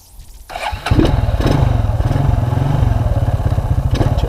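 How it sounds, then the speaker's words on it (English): A 2001 Suzuki Quadrunner 250 4x4 ATV engine cranks briefly, then catches and settles into a loud, close, rapid pulsing idle with no one speaking. "Hopefully she starts right up and goes."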